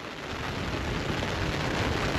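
Heavy rain at an ocean inlet pours in a dense, steady hiss, loud and close, with no breaks and no voices.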